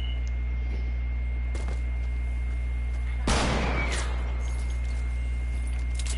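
A single sharp gunshot crack in Fortnite stands out over a steady low engine-like hum, with fainter pops before it.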